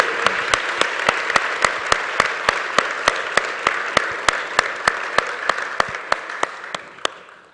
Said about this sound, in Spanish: por favor despidan con un aplauso a Santiago